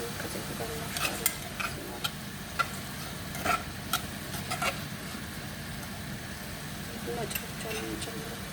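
Rice stirred and fried in a pot before chicken is added, a continuous low sizzle with scattered scraping clicks from the spoon, close, under a faint background hum.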